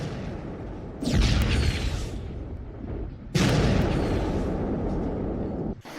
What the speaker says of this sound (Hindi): विस्फोट हो रहा है।